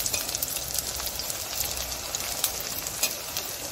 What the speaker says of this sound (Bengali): এই চিপসগুলো দিয়ে দিচ্ছি একে একে তেলের মধ্যে।